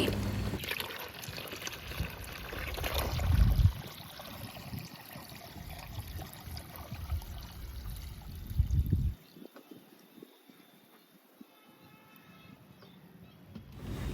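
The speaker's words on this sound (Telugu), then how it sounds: "ఇప్పుడు దీన్ని వాటర్తో డైల్యూట్ చేస్తున్నాను వన్ ఇస్ టు టెన్ రేషియోలో" Water is poured to dilute onion peel liquid fertilizer at a one-to-ten ratio, a steady close trickle and splash for about nine seconds before it fades to quiet.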